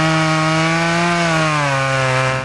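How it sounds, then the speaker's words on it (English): A saw cuts storm-downed wood and branches after a tornado, a loud, close, sustained droning buzz whose pitch sags slightly toward the end, with no voices. "Dana Marcourt spent most of the morning cutting wood and sawing branches."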